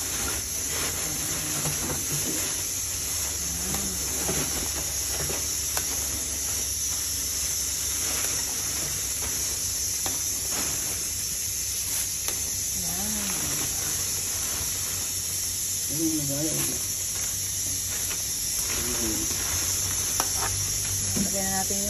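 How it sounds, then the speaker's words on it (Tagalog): Taro leaves for laing go into coconut milk cooking in a pan, with a constant loud sizzling hiss, occasional stirring scrapes and faint voices murmuring in the background throughout. "Lagyan na natin yung dahon ng laing."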